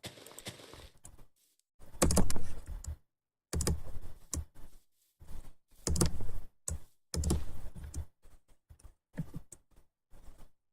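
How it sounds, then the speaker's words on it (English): Someone types on a computer keyboard whose spacebar sticks, producing bursts of rapid clicking separated by short silent gaps, close and fairly loud, with no voices. "I don't know why my spacebar is sticking like that, but it's rather tiresome"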